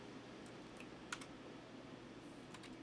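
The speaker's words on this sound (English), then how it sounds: "I'm gonna type in a song real quick." Sparse keystrokes on a computer keyboard, a few faint, scattered taps over a steady low background hum, with one slightly sharper click near the middle.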